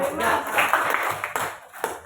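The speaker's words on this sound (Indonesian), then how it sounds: "Tepuk tangan untuk Mas Jaka." Brief scattered clapping from a classroom or workshop group applauding a presenter, with voices talking over it.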